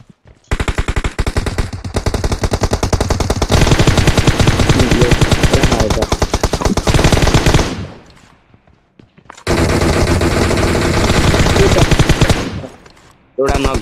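An M249 machine gun in PUBG Mobile fires loud, rapid sustained bursts, one long spray of several seconds, a short gap, then another long burst.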